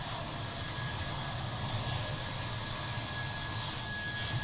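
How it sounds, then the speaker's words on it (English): An airplane's engine drones overhead inside a train simulator game on the West Coastway and Brighton Main Line route. A steady, loud, broad roar holds unchanged throughout, with no talking. "That's a plane you can hear, but in the game."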